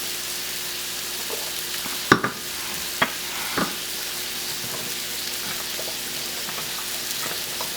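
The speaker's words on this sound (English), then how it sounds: "Look at our meatballs. Yes. They frying, y'all." Meatballs frying in a pan with wine nearby, a steady soft sizzle throughout with a few sharp clinks and scrapes of a utensil, no talking.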